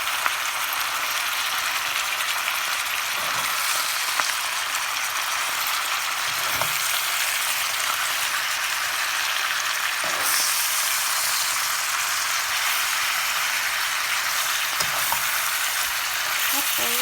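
Chili and garlic stir-fried in a pan for spicy bamboo shoots, a steady broadband sizzle throughout with occasional scrapes and clanks of stirring.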